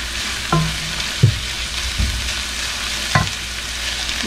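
Ingredients for a seafood paella sautéing and sizzling in a pan, a steady fry hiss with a few knocks of stirring utensils against the pan.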